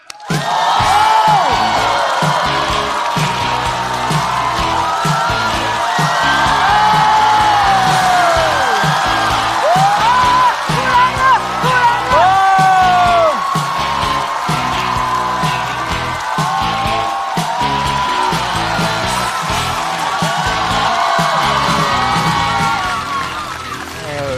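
Stand-up comedy show crowd welcoming comedian Hulan onstage, loud sustained applause mixed with whoops, yells and cheering filling the room, swelling and lasting the whole stretch.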